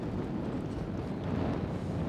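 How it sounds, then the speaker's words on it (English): Strong wind buffets the microphone outdoors while fishing, a loud, close, continuous low rumble and roar with no clear voices. "Man, that wind's getting strong."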